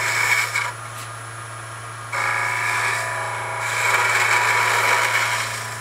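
A wood lathe hums steadily while a turning tool rides along a spinning wooden spindle to cut beads, giving off bursts of hissing, scraping chatter that come and go over the constant motor drone.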